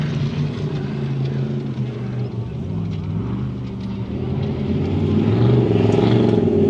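An off-road race car with hydro steer on a rally special stage, its engine a deep, fat, steady roar that builds louder toward the end, close by and continuous.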